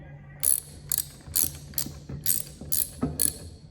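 A hand ratchet snugs up bolts during engine valve installation, giving about eight crisp clicking pulls in a quick, fairly regular rhythm, close and clear.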